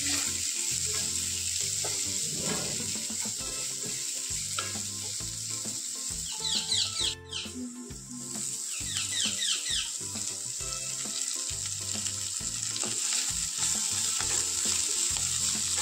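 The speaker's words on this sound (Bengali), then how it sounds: "এটাকে কিছুক্ষণ ভালোভাবে নেড়েচেড়ে নিয়ে ভেজে নেওয়ার পরে একটু ঢাকা দিয়ে সিদ্ধ করতে দিতে হবে" Potatoes with salt sizzle and fry in a pan while being stirred, giving a continuous hiss with rhythmic scraping and clattering of the spoon throughout, plus a brief louder clatter in the middle.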